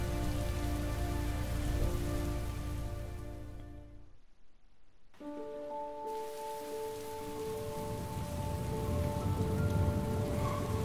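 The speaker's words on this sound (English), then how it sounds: "It's raining" Steady rain pours down in the video game Heavy Rain, a dense hiss broken by a short near-silent gap before resuming, with sustained musical tones layered over the downpour.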